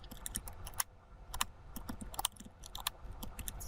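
Keys on a computer keyboard are tapped in quick, uneven bursts of light clicks, faint but close, with no voices over them.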